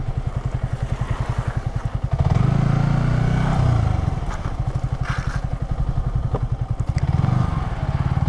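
A Yamaha R15 V3 motorcycle engine pulses rapidly and loudly as it rides, swelling into a sustained rev and acceleration, easing back, then surging again near the end.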